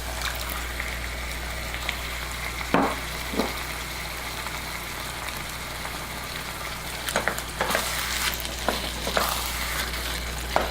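A chili mixture of beans and spices sizzles steadily in a pot, with a few sharp scraping stirs of a spoon against the pot, close and continuous under a low hum.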